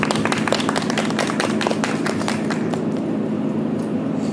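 An audience claps at a guest-visit screening during the Bucheon International Fantastic Film Festival, with a dense patter of hands that thins and fades over a few seconds.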